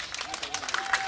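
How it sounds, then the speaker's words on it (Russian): An audience at an outdoor park concert claps in a brief, steady burst of applause, with crowd noise underneath. "Давайте еще раз поаплодируем им."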